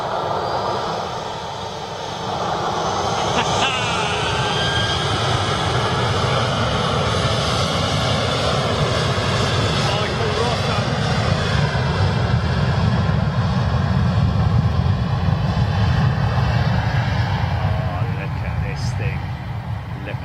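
An Airbus A350 jet airliner turns in on a taxiway, its engines giving a steady, broad roar that builds slightly and holds at a moderate distance for the whole stretch.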